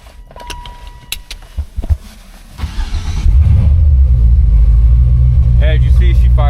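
A 1988 Chevrolet Caprice V8 engine cranks and catches around the three-second mark, then settles into a loud, deep, steady idle with a rumbling aftermarket exhaust, preceded by clicks and rustling.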